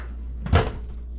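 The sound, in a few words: microwave door opening and closing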